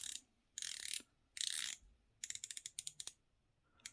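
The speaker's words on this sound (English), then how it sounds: "Very tactile feel, precise, brilliant clicks. And that is a very nice sounding bezel." Rotating bezel on a Heimdallr V2 Monster Frost Edition dive watch clicking through its ratchet, a few quick swipes followed by a crisp run of precise individual clicks, close and quiet.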